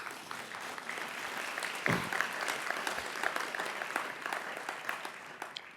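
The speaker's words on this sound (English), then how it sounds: "Let's give them a round of applause" Audience applause at the opening remarks of the TAMEST 2024 conference, a steady dense wash of clapping from a sizable crowd that holds evenly throughout.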